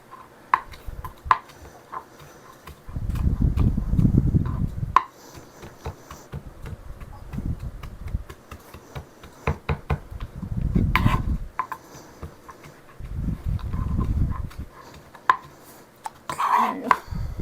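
Fresh thyme and parsley, grown on a windowsill, chopped with a knife on a cutting board in a home kitchen: bursts of rapid, close knife thuds with pauses between, plus a few sharp taps, and no talking.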